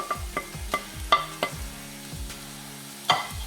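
Onion mixture with chopped green chilies being stirred in a pan for chicken keema biryani, a series of sharp spoon-against-pan knocks, roughly a dozen in uneven rhythm, over a faint steady sizzle close by.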